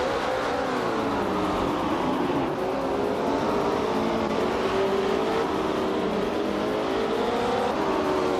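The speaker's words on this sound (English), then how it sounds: "the race is underway at the Ailes reverse track, and right now Leanne Trudeau is leading the pack in her vintage 1966 Porsche 906" Vintage 1966 Porsche 906 race car running on a racing track, a steady loud engine drone with shifting pitch, continuous and close throughout, with no voices.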